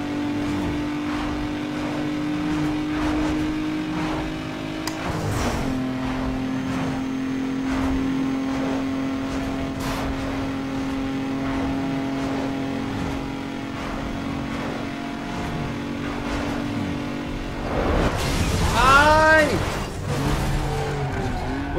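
Continuous car engine drone with tire noise in Need for Speed Underground 2, a drag race, rising to louder revving and squealing near the end, under a speaking voice.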